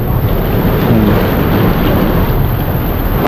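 Loud, steady rushing of rising floodwater at high tide during heavy rain, a broad continuous roar with no breaks, close by and filling the whole scene.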